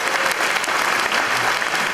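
Brief, dense round of applause from an audience at a corporate agency meeting, steady clapping filling the short stretch at even loudness.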